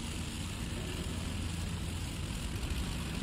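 Propeller aircraft engines from the IL-2 Cliffs of Dover flight game drone steadily as planes roll for takeoff, a loud, continuous low rumble with no breaks.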